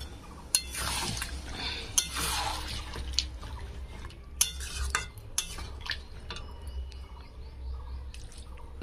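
Fried prawns stirred in a pan with a little water, intermittent spatula scrapes and clinks over a low bubbling hiss, quiet and close with a few sharp taps.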